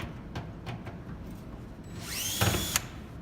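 A power drill with a 1/4 inch bit removes screws from a gas fireplace burner assembly, giving faint taps and then a brief rising high-pitched whir that spins up and stops abruptly.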